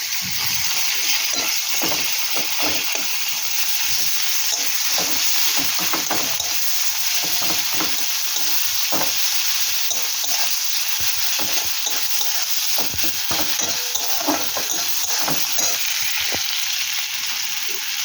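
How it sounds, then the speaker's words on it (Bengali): Onions frying in hot oil left over from frying fish, a loud, steady sizzle with crackling and spoon stirring throughout, close and continuous with no talking. "এই তেলে আমি এবার পেঁয়াজ দিয়ে দেবো। পেঁয়াজটা ভেজে নিই।"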